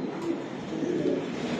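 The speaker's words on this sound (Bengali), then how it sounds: "এটা একটা রেস করা কবুতর, রেস করা কবুতর এটা" A racing pigeon coos softly in a short low murmur, close by, with faint background hum and no talking.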